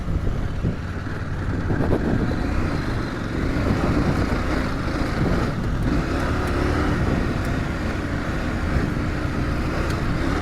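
A KTM 790 Adventure R motorcycle rides into sand dunes in Morocco, its engine a steady loud rumble blended with heavy wind buffeting on the microphone, continuous and close with no speech.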